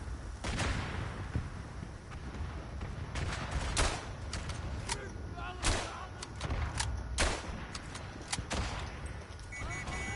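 Artillery barrage in the World War One game Verdun, a steady rumble broken by repeated sharp blasts and thuds at irregular intervals, some near and loud, others more distant, with occasional speech over the battle noise.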